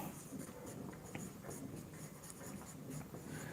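A teacher writing on a board during a physics lesson, with quiet continuous scratchy strokes in short bursts, close and faint.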